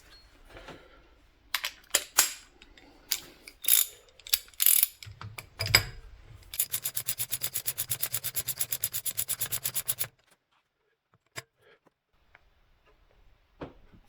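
A wrench ratchets on a brass fitting of a VW engine oil sump, with scattered clicks and knocks followed by a long run of rapid, even ratchet clicks, then quiet with a couple of faint taps.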